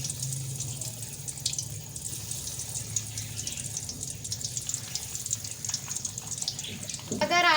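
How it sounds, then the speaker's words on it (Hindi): Eggs frying in hot oil in a kadai give off a steady, broad sizzling hiss that runs throughout. A short tonal sound rises near the end. "अब हम इन अंडों को कढ़ाई में फ्राई करेंगे"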